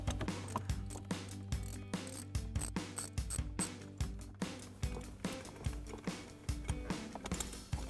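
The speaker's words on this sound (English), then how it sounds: "I'm going to take my 13mm socket here with my ratchet and loosen these two up" A ratchet with a 13mm socket works loose the shifter bolts in a Dodge Challenger console, giving a close, rapid series of rhythmic clicking strokes in repeated bursts.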